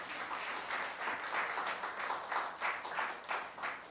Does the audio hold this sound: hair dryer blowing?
no